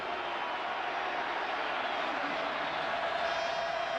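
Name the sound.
stadium crowd noise at Michigan vs Ohio State football game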